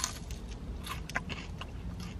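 Crisp crunching and biting close to the ear on burnt, crunchy Tim Hortons food, a few sharp crackly bites over soft background noise, no talking.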